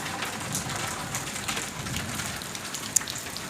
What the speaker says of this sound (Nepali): निकै ठुलो पानी पर्ला जस्तो छ हो आज।